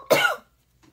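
One sharp, close cough bursts out from a person and stops abruptly, leaving near silence with a faint breath at the end.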